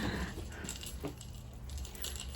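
A ring of keys jangles and clinks in short bursts against a door lock while someone tries the wrong key, fairly close over a steady background hiss.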